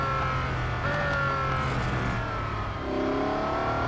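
Race car accelerating in the racing game Real Racing 3: a steady, fairly quiet engine drone with rising tonal whine that shifts pitch near the end, with no voices over it.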